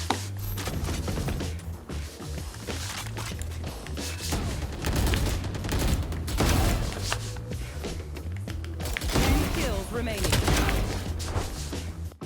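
Phantom rifle spray in the video game Valorant: dense, sustained automatic gunfire with rapid overlapping shots and impacts, loud and continuous for over ten seconds.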